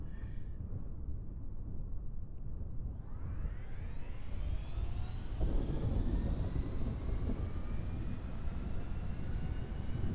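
A helicopter flies in the video game Kerbal Space Program, its turbine whine climbing steeply in pitch over a constant loud roar, then holding a high, screaming tone, with no voices.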